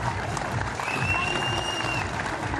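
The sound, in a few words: applause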